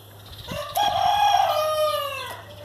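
A rooster in a coastal Pacific Northwest home garden lets out one full, drawn-out crow, fairly close and clear over a low steady background hum.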